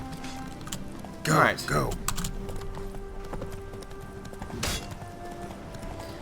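Roach, the horse in The Witcher 3, heard as a short burst of hoofbeats at a canter with a brief snort, then quieter in-game ambience; someone speaks a single word.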